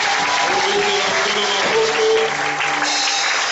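A church congregation claps and cheers in praise of the Lord, steady, loud applause filling the room over sustained organ or keyboard notes.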